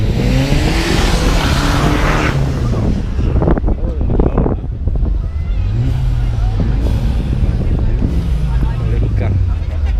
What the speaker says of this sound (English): Ford Fiesta sounds nice.